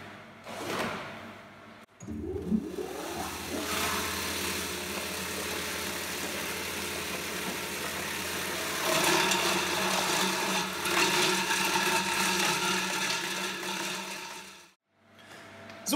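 A bowl cutter chopping meat for coarse bratwurst: the machine starts up with a rising whir, then runs as a loud, steady mechanical roar with a chopping drone for over ten seconds before it stops abruptly.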